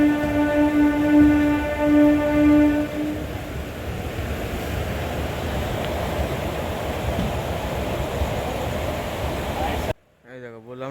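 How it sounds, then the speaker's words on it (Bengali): The Kandari Express 22898 pulls out of Mecheda station: a loud horn blares for several seconds, then gives way to a steady rolling rumble of the moving carriages, with a brief different sound at the very end. "এই দেখো, বললাম না সব লোকাল ট্রেনের প্যাসেঞ্জার। খুব অল্প সংখ্যক প্যাসেঞ্জারই এই ট্রেনে উঠলো। ট্রেন ছাড়ছে মেচেদা স্টেশন।"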